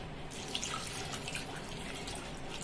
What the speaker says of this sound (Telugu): ఇప్పుడు ఇందులోకి తగినన్ని వాటర్ పోసుకుందాం